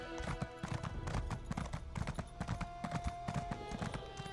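Horse hooves clip-clop at a steady trot in The Elder Scrolls Online, Elsweyr region, loud and close over a game music bed, with the odd whinny and faint background speech.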